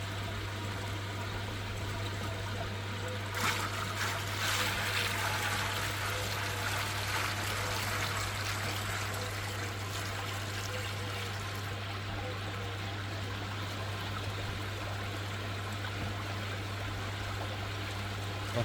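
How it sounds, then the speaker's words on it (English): Pond water is poured into a tank to top it up, a steady splashing trickle near at hand with a surge of louder pouring early on and a constant low hum underneath. "So I'll just get a bit of pond water and I'll top it back up."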